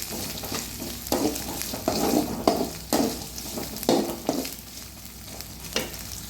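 Sliced green chillies sizzle in hot oil in a pan while a spoon stirs them, with scraping strokes every second or so over a steady close frying hiss and no talk.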